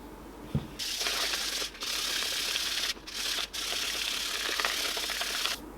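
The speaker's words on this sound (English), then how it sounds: "I should try sanding it first, get a few of the bumps off" Rough, scratchy rubbing of sandpaper against a crinkly aluminum foil ball, in sustained strokes broken by a few short pauses, close and fairly loud.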